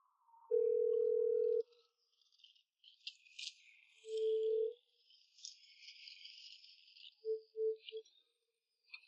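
A telephone call tone sounds unanswered, a long steady beep followed by a shorter one and a few quick pips, with faint rustling and chirping background noise between them.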